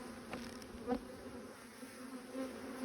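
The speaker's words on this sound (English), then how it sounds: "The bees tend to be staying over to that side." Bees buzzing softly around a hive, a quiet, continuous drone with a few individual insects passing close by.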